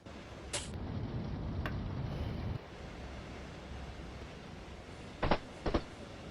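Track joint thuds in Train Sim World 2 on the East Coastway line to Brighton, a quick pair of sharp knocks near the end over a steady rumbling train ride, with an earlier click or two.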